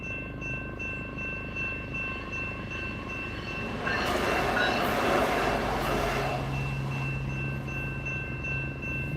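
A train passes close by with a steady rumbling roar that swells sharply partway through as the cars rush past, then settles back to a heavy, continuous clatter.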